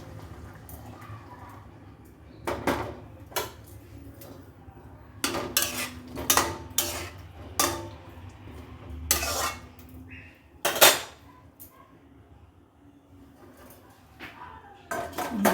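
A cooking pot of yam curry is taken off a stove, giving scattered close metallic clanks, clinks and knocks of cookware against quiet kitchen background.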